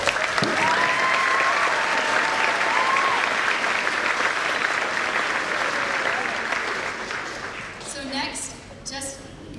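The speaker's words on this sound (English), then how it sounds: "let's give them one more round of applause" Audience applause for teachers at an 8th grade promotion ceremony, a dense sustained round of clapping from a large crowd that fades near the end, with a few voices and whistles mixed in.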